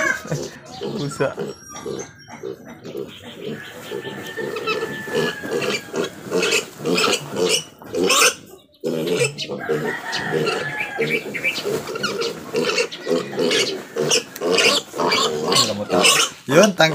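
A pig squeals and grunts loudly and repeatedly while being castrated, with cries rising and falling throughout and people talking nearby.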